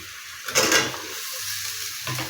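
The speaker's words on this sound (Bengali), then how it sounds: "সবজিগুলি দিয়ে দিব এখানে দিচ্ছি বেগুন তার পটল আলু" Eggplant, pointed gourd and potato frying in a pan give a steady hiss, with a short louder burst of sizzling and stirring as the vegetables hit the hot oil; no voices.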